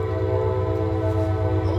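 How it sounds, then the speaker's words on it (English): A passing train gives a steady, loud rumble with sustained horn-like tones held throughout, continuous and close with no voices. "Oh, and trains."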